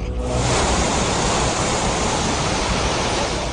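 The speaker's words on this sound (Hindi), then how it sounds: "केरल के मल्लापुरम में बारिश और बाढ़ ने कहर मचा दिया है।" The Chaliyar river, swollen by heavy rain in Malappuram, Kerala, overflows as floodwater rushes past in a loud, continuous roar that stays dense and steady throughout, with no voices.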